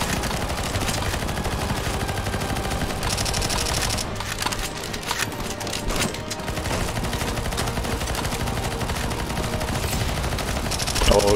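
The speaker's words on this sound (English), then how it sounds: "They shoot zombies" Rapid gunfire from shooting zombies in the CS:GO Zombies map AoT Trost fills the whole stretch, dense and loud with continuous overlapping shots and a brief thinning near the middle.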